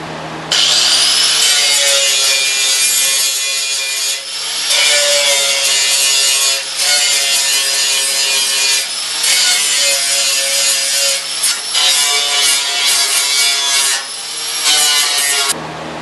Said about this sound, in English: I can now sand it down to bare metal all the way around the panel so that I can be ready to weld. I'm using a flap disc.